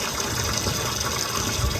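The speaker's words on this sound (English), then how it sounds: "I'll go get the hose and let's time how long it takes to fill this up." Water from a garden hose gushes into a stock tank being filled as a DIY cold plunge, a constant, close, dense rushing splash with no voices.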